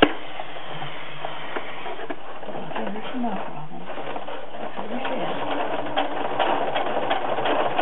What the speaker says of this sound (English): They're probably going to be stronger if you run them through a sewing machine.